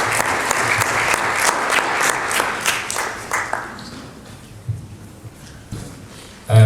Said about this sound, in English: A better round of applause for Judge.